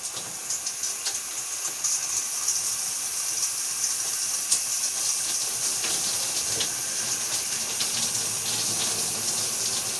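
A shower runs with water spraying in a steady, hissing rush that continues unbroken at moderate volume, with no voices.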